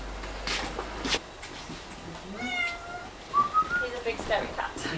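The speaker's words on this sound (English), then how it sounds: "He's a big scary cat." A cat in an abandoned coach house gives a few short, rising meows, close by, mixed with background shuffling and a person's voice.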